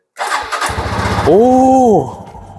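A Honda Super Cub motorcycle engine, on a recharged battery, cranks and catches, settling into a steady idle with a rising whine near and loud, while a voice exclaims briefly at the start.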